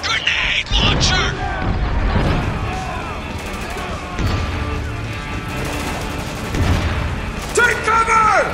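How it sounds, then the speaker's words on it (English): Grenade launcher blasts and gunfire in the Spec Ops: The Line shooter, heavy booms and crackling shots continuing throughout at loud close range, with shouted voices over the combat. "Grenade launcher!"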